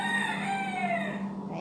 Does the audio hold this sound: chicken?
yes